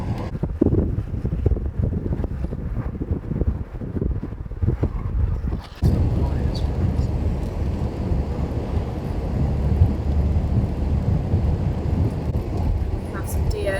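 Rain heard from inside a car driving a narrow Scottish Highland road, a steady dense wash of drumming and road noise with low rumble throughout, briefly broken by a thump midway.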